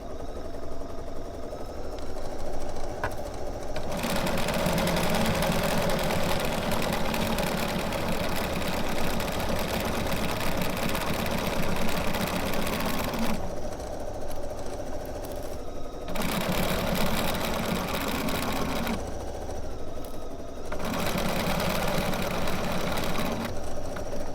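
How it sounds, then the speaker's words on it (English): A 97D sewing machine runs steadily while sewing a quilt piece for a Celtic quilt, close and loud with a constant whirring hum that pauses and speeds up between short stretches of stitching. "Now I'm just going to sew this on using my 97D again"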